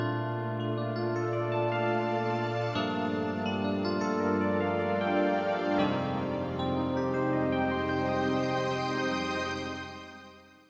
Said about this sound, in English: So we've got a nice electric piano here layered with a pad sound.